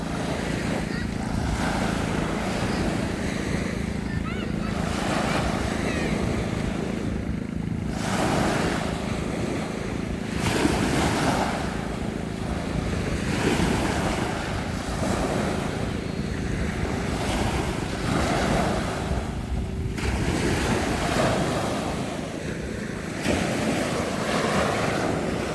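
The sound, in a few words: sea waves on the shore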